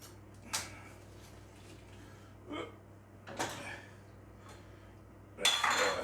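A knife cutting through a steak pie with a crispy top on a plate, producing a few faint scattered scrapes and clinks against the plate in a quiet room, the last one longer and louder.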